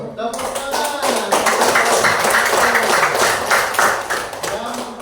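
Audience clapping after a group presentation on the continent of Australia in a classroom, a dense steady burst of many hands lasting several seconds at close range with some voices mixed in.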